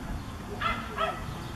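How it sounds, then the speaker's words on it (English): Jack Russell terrier barking next door, two quick sharp yaps about half a second apart, moderately loud over a steady outdoor background hum. "The dog you hear next door is the cute little Jack Russell, Molly."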